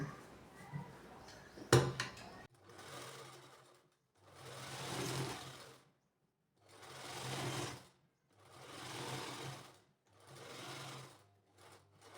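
A sewing machine stitches a printed blouse sleeve in five separate bursts of rapid mechanical chatter, each a couple of seconds long with short quiet gaps, close and fairly soft, preceded by a brief clunk.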